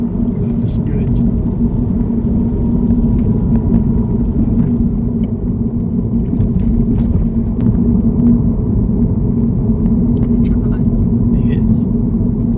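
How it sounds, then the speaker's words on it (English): A car engine runs during a driving lesson, a steady loud low rumble and hum filling the cabin throughout, with faint occasional sounds above it. "Listen to your engine."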